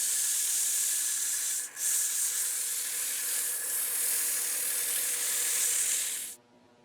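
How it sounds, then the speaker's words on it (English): Steady, close hissing of sandpaper rubbing on a wooden pepper mill turning on a lathe, with one brief dip, running for several seconds before cutting off abruptly. "I'm going to is to do a little sanding on it"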